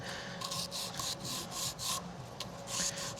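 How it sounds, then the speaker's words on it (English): Rhythmic hand sanding of wood with a small piece of sandpaper on a pool house building site, a series of close, quiet rasping strokes repeating about twice a second. "Grab my little bit of sandpaper and"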